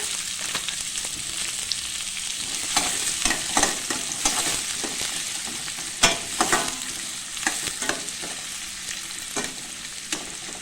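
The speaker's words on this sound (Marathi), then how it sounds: "चला तेल गरम झालेलं आहे तर मी आधी टाकणार आहे मोहरी आणि लगेच मी त्यात जिरं घालणार आहे कांदा" Mustard seeds, cumin and onion fry in hot oil in a steel kadhai, a constant loud sizzle broken by frequent sharp crackles, pops and stirring scrapes. No one speaks.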